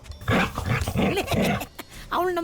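A dog growls and snarls in short rough bursts close by, then a voice speaks briefly.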